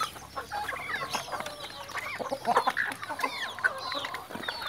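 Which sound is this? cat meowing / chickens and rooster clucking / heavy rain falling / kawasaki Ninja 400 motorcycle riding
chickens and rooster clucking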